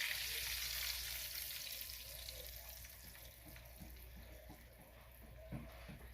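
An egg fries in a hot pan with a steady, close sizzle that holds throughout, faint clinks and stirring-like scrapes mixed in, no voices.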